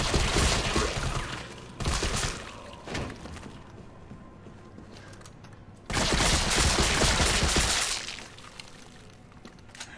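Bursts of gunfire as police officers are shot in Resident Evil 3, loud dense blasts in two long stretches around a quieter middle, with no talking.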